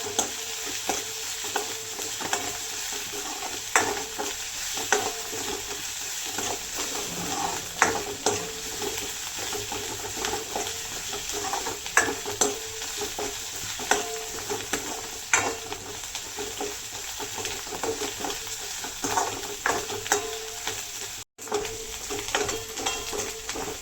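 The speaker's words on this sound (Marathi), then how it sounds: "चांगलं परतून घेऊया, त्याचा कच्चेपणा दूर होईपर्यंत परतून घ्यायची।" Tempering for a safflower leaf vegetable sautéing in a pan, with continuous sizzling and frequent stirring scrapes at a close, steady level and no voices.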